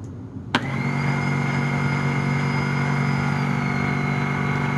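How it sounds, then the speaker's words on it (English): A Tineco Pure One cordless vacuum switches on abruptly after a short quiet moment, then holds a loud, steady motor whine with an airy rush during a suction test, close and uninterrupted. "I have no idea how the electronics are going to react to the suction test."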